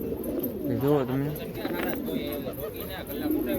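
Pigeons in a breeding setup cooing nearby, a soft warbling call rising and falling amid steady background noise and faint voices.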